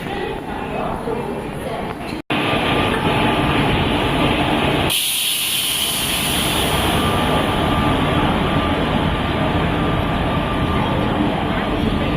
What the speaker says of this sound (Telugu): ఇప్పుడు ప్రజెంట్ ఇక్కడ ఒక వేరే ట్రైన్ వస్తుంది